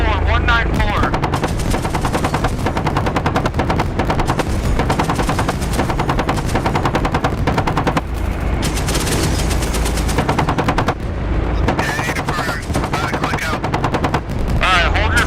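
Loud, continuous machine gun fire in the DCS World combat flight simulator, a dense unbroken rattle filling the whole stretch with heavy low rumble underneath, while voices talk faintly beneath it.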